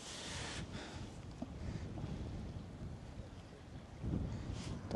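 Strong wind blows on a riverbank during a fishing trip on the Bārta river, buffeting the microphone with a steady broadband rush that swells near the end; a voice briefly speaks.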